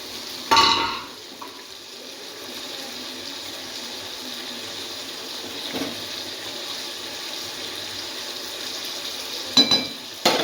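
Fish frying in plenty of oil in a home kitchen pan, a constant sizzling hiss broken by a few sharp scraping and clinking stirs.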